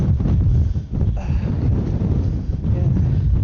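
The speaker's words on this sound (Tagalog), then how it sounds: "Lakas ng hangin." Strong gusting wind buffets the microphone on the peak of Mt. Gulugod Baboy, a steady heavy low roar that swells and dips without pause for a few seconds.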